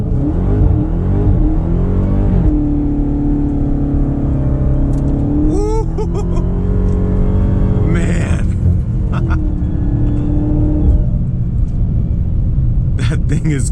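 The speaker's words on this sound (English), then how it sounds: "I'm gonna do a rolling burnout." A 2020 Dodge Charger SRT Hellcat Widebody doing a rolling burnout, with a loud rumbling engine that revs up and down in repeated surges and high tire squeals cutting in, recorded up close with a person talking inside the car.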